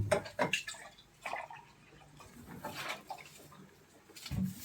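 Water is poured into a cooking pot for sinigang, quiet splashing bursts at the start and end with faint trickling between, close and soft.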